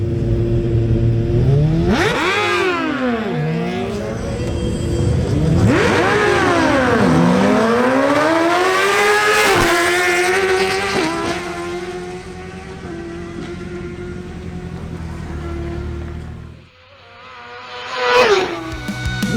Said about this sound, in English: Wilson Penzo on his Suzuki GSX-R1000 races against Edward Manzano on another Suzuki GSX-R1000.